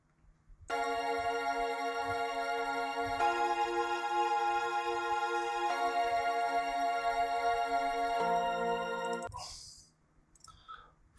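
Sustained chords played on a keyboard over a hip hop beat, held tones shifting every few seconds above faint drum hits, then cutting off near the end.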